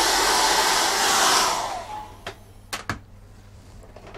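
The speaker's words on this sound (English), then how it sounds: "I'm just going to put a hair dryer on that." A hair dryer blows a loud, steady whoosh for about two seconds while drying a painting of cat's eyes, then is switched off and fades, followed by a few sharp knocks and clicks nearby.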